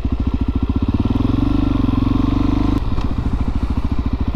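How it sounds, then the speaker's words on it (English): A loud Suzuki DRZ400SM dirt bike engine revs close by, its rapid rough pulsing rising briefly then dropping back to a choppy idle. "Gonna ruin this guy's day with my super noisy motorcycle."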